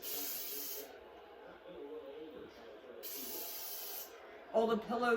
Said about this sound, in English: Now I'm going to spray everything down with Lysol, including the air, all the pillows,